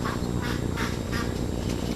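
Ducks quack close by in repeated nasal bursts over a dense, noisy background, continuous through the short stretch.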